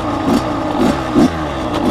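A dirt bike engine sputters and chugs at low speed with rhythmic loud pulses, close by and steady, as if just started and idling roughly.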